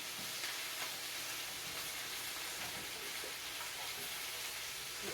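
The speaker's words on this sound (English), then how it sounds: "So I'm just going to give this a quick little stir." Cabbage and kielbasa sausage sizzle and fry in a big skillet while being stirred, a steady faint crackling hiss with soft scraping, close and uninterrupted.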